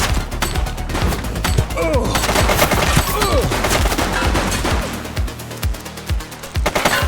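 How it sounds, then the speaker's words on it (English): Rapid bursts of gunfire and volleys of shots fill a police shootout in The Precinct, loud and dense throughout with sharp repeated cracks and low thuds. "She's shooting!"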